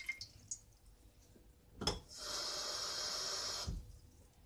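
A few light clinks, a thud, then water pours steadily into a frying pan for about two seconds with a bright rushing hiss before stopping.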